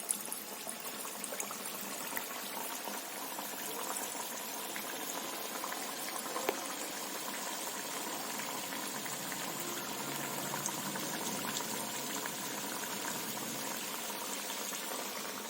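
Pearl millet sweet dough patties (sajja appalu) fry in hot oil, giving off a steady, even sizzle and bubbling hiss that holds for the whole stretch at a quiet level, with no talk.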